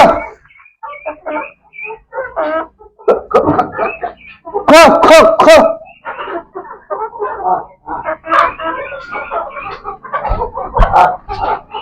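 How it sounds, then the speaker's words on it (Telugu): Hens on a farmhouse cluck and peck at freshly scattered feed, short clucks close by that are interleaved with and partly masked by a person talking nearby. "చూడండి, కోళ్ళు కూడా తినేస్తున్నాయి."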